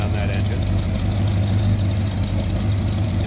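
A 1932 Ford Roadster with a 350 factory crate engine idles with a steady, deep low rumble throughout, close and even, with no talk over it.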